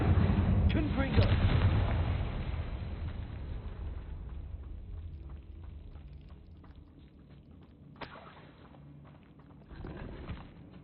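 Spell blasts from Incendio and Confringo in the game Hogwarts Legacy, a dense, rumbling burst of fiery impacts fading into lower crackling thuds, with a few sharper hits near the end.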